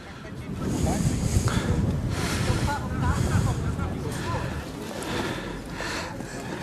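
Gusty wind buffets the microphone with uneven low roaring at an outdoor flea market on a frosty January morning in Racibórz, Poland, while voices talk intermittently underneath.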